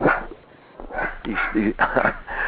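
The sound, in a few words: small dog barking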